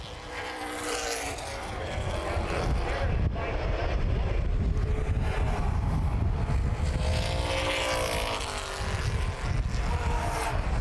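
Late model race cars at Baer Field Speedway roar past in a steady, loud engine drone that swells and holds over the full stretch, with wind buffeting the microphone.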